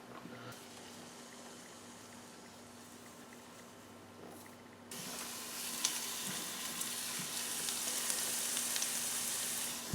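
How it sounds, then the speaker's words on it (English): Garlic fries in butter in a pan with a soft, steady sizzle that swells halfway through into a louder, brighter crackle and stays strong to the end. "You see this garlic is starting to turn brown."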